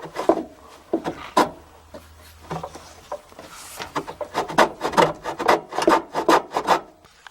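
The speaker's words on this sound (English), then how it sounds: "let me see if I can get those two little pieces of wood out of the way" Small pieces of wood being pulled out from beside a furnace near a Honeywell media air filter cabinet, with scraping, rubbing and knocking in irregular bursts, close and moderately loud.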